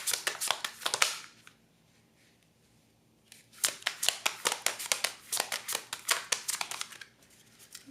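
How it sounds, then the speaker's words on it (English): Tarot cards riffled and shuffled by hand in two bursts, a quick flurry of crisp slapping card sounds, a pause of near silence, then a longer steady run of snapping riffles, close and fairly loud. "This is an awful shuffle."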